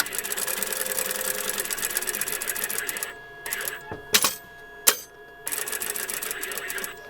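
A sewing machine stitches around a patchwork square for a Pineapple-technique basket, humming rapidly for about three seconds, pausing with a few sharp clicks, then resuming its steady stitching.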